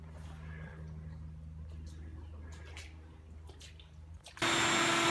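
A vacuum cleaner drones steadily while sucking up floodwater from a flooded house, a continuous hum with faint clatter and slurps, then a sudden loud rush of noise near the end.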